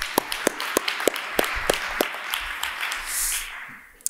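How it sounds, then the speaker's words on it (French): A small audience at a French debate championship gives a short round of applause, a sparse series of distinct, crisp claps at irregular intervals that thin out and fade toward the end. "Ça, c'est incroyable, ça mérite des applaudissements"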